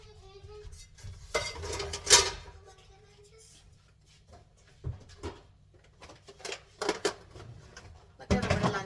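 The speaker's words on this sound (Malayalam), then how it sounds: "പിന്നെ ഇന്നലെ കുറച്ച് പാത്രങ്ങളൊക്കെ കഴുകി വെച്ചിട്ടുണ്ടായിരുന്നു." Washed kitchen vessels, including lunch boxes, are stacked away at home: scattered metallic clinks and clatters, several sharp and close, with quiet pauses between them.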